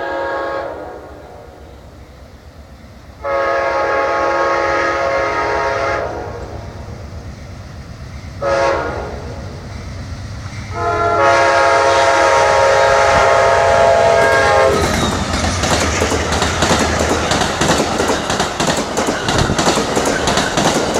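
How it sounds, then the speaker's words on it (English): The southbound Amtrak Palmetto passenger train sounds several loud horn blasts as it approaches, then passes close by with a heavy, continuous rumble and clatter of rail cars. "There goes the southbound Palmetto."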